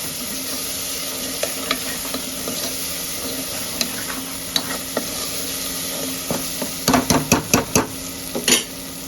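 Cumin and spice powders being stirred into a frying Telugu vegetable curry of field beans, brinjal and potato, a low steady sizzle with a few sharp metal spoon taps and scrapes toward the end.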